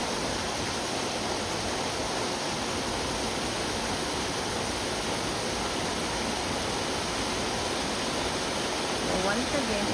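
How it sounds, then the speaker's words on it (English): Waterfall rushing water as a steady, dense broadband roar filling the whole stretch, close and continuous with no breaks, calm and constant at a relaxing spot. "enjoy the rushing water"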